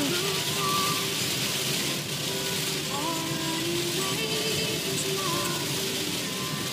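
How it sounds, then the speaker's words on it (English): Rain falls steadily on a moving vehicle on the road to a fall festival, a dense, even patter held for several seconds with a faint background tone running beneath it. "because I can't turn down the rain"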